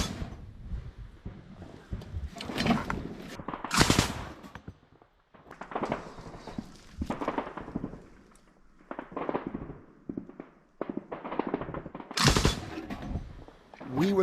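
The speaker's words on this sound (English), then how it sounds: "The two sides are close enough to exchange machine gun fire" Machine gun fire crosses no man's land on a battlefield in eastern Ukraine, sharp bursts and single cracks of varying loudness, some near and some distant, scattered irregularly with pauses between.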